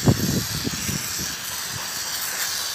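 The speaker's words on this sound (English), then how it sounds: "So you see the torch on it with the fire." A steady hiss of a torch flame plays against a car radiator tank during solder repair, with a few low clunks at the start and a constant close roar throughout.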